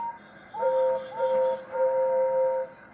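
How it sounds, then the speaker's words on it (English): Three steam-whistle toots from toy train engines sound at a moderate distance, each a steady two-tone blast, the last held longest, over a faint background hum. "But unfortunately, they were whistling impatiently."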